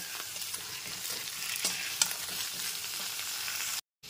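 Malabar spinach stalks and eggplant pieces frying in a pan over a medium gas flame, giving a steady hissing sizzle with a few stirring scrapes, before a sudden brief cut to silence near the end.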